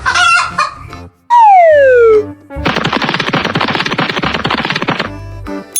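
A chicken clucks in a loud, rapid burst of calls after a short squawk and a long descending cry, heard close and clear.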